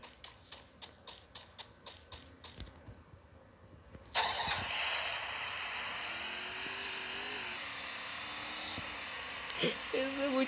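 In the mobile shooter Free Fire, a small motorbike's engine starts with a sharp burst after a run of tapping clicks, then idles as a steady hum, with a voice briefly heard near the end.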